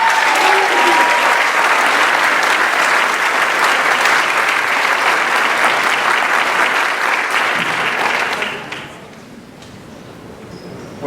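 Loud, dense audience applause at a high school senior awards ceremony for a scholarship recipient, holding steady for about eight seconds before fading into quieter room noise.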